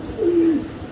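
A racing pigeon gives a single short, soft coo, close by and heard alone.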